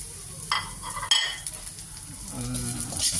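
Onion and ginger stirred and sautéed in a hot pan, a utensil scraping and clinking against the metal under a steady sizzle, with a couple of sharper knocks partway through.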